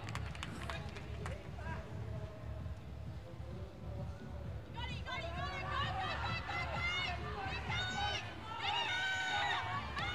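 Audience at a 2018 Australian powerlifting championship clapping and cheering after a 205 kg deadlift, a steady crowd roar with shouts rising over it and a voice calling out.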